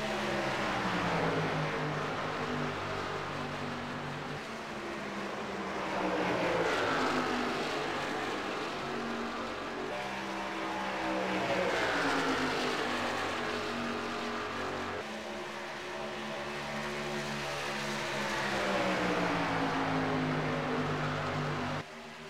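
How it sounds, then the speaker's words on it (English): Race cars roar down the backstretch at Michigan in a stock car racing game, a continuous loud engine drone with rising and falling pitch sweeps as cars pass. "Cottle putting the pressure on Massey now for first, coming down the backstretch here at Michigan"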